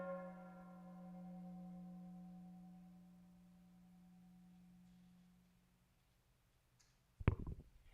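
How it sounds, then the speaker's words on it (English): A struck gong at a Sunday church service rings out with a sustained, shimmering tone that slowly fades to near silence, followed by one sharp knock near the end; the whole passage is faint. "We hit the gong a second time"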